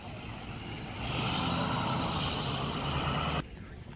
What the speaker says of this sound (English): We'll let this UPS truck go ahead and pass by.